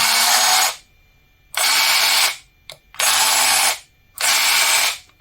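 A small electric motor in Parkside 4V cordless secateurs whirs loudly in four bursts of about a second each, with short silent gaps between them.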